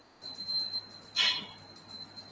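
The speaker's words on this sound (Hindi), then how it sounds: "कौन घंटी बजा रहा है?" A bell rings in the background of a room, a bright sustained metallic tone with a brief louder burst partway through.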